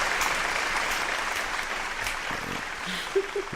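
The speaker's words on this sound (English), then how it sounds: "Round of applause for the listeners." Scattered clapping fills a podcast studio as hosts applaud their listeners, a steady moderate patter with brief voices near the end.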